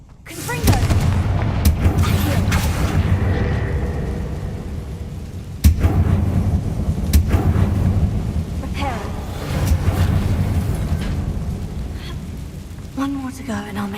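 Confringo blasting spell explosions in Hogwarts Legacy, heavy booming blasts with sharp cracks recurring over a continuous rumbling game soundscape, loud and close, with a voice casting spells.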